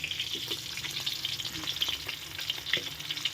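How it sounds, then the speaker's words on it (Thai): Mackerel frying in hot oil until crispy, a continuous close crackling sizzle with bright spitting pops throughout, moderately loud with no speech. "ทอดให้เหลืองๆนะจ้าเนาะทอดให้กรอบๆเหลืองๆ"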